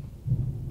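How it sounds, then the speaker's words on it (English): Thunder from an approaching storm swells as a short, deep, muffled rumble, distant and low, lasting under a second with no speech over it. "Thunder, hear that?"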